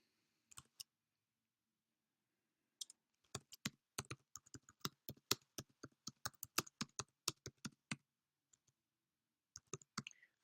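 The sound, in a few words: typing on a computer keyboard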